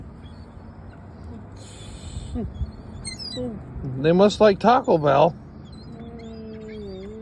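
Seagulls being fed snacks squawk in a burst of several loud, close calls, with people talking before and during the commotion.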